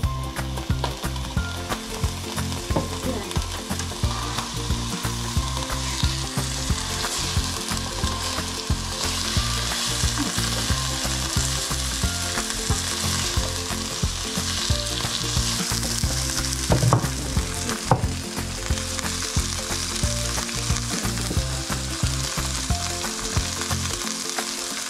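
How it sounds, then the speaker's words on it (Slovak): Meat sizzles steadily in a hot pan for a sour cream meat dish, a dense continuous frying crackle with rhythmic stirring and scraping clicks throughout, no voices. "Orestujeme aj mäso."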